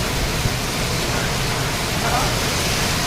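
Heavy unseasonal rain falling in Dharashiv (Osmanabad), a loud, dense, steady roar of downpour that fills the whole stretch without letup.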